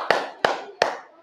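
Three sharp, evenly spaced hand claps ring out in a steady rhythm, each close and crisp with a short decaying tail, clapped alone in a classroom-style counting exercise.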